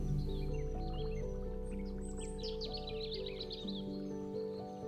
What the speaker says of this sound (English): The call of the African fish eagle carries across many of Kruger's rivers and reservoirs